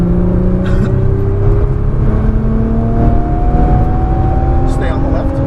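Nissan GT-R accelerating on a Las Vegas race track, heard from inside as a loud steady engine whine rising slowly in pitch, with a few brief clicks and taps over the drone.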